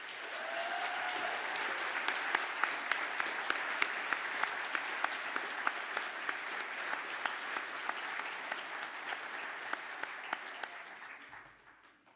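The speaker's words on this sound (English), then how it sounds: "Would all the graduates of the Heritage programmes please stand to accept your applause?" Audience applause for graduates of heritage programmes at a ceremony, sustained even clapping from a large room that fades out at the end, with no talking.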